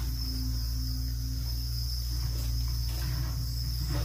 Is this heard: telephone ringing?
no